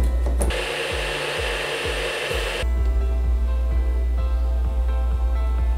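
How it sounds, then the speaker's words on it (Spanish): Blender blending a lemon cream sauce, a loud steady motor whir with rhythmic chopping pulses, then a lower continuous hum as it keeps running. "Vamos a licuar esto."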